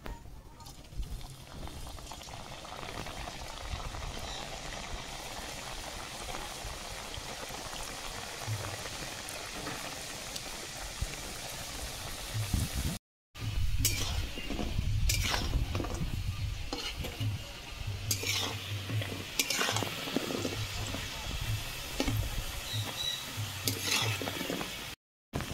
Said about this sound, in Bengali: একইভাবে বাকি গজাগুলো ভেজে নেব।